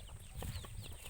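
Farm chickens cluck in a quiet rural barnyard, soft, fairly distant calls over a low background hum, with no talk.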